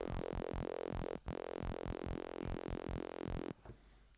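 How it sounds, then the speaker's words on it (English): A rough, buzzy synthesizer saw-wave bass for dubstep sound design wobbles in a rhythmic pulsing pattern with one brief dropout, then cuts off near the end, leaving faint low noise. "The saw wave is going to sound fairly rough."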